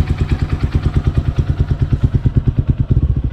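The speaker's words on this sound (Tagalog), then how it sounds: "Pakinggan nyo yung makina kung may nagbago ba o wala." Motorcycle engine idling after an EGB Safety Engine Lube oil additive and fresh oil change, a close, loud, steady chugging beat of regular firing pulses with a slight quickening near the end.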